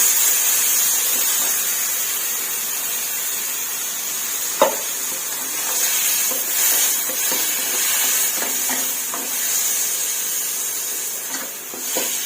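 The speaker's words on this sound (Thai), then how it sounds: "เติมน้ำลงนิดนึงค่ะ" A little water goes into a hot pan of stir-fried minced pork with mixed vegetables, shiitake mushrooms and baby corn, giving a steady, loud sizzle and hiss of steam, with faint scraping and clinks of stirring throughout.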